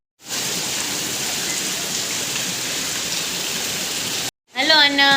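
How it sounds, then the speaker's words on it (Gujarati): Heavy rain pours down in a dense, steady roaring hiss for about four seconds, then cuts off abruptly and a person starts speaking. "ફૂલ વરસાદ આવી રહ્યો છે."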